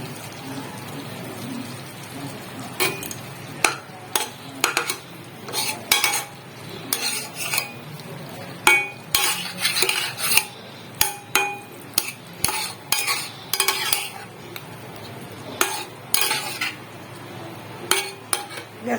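Pointed gourd pieces go into gravy in a pan, with a string of sharp clinks and clatters from a utensil striking the pan at irregular intervals over a soft background sizzle.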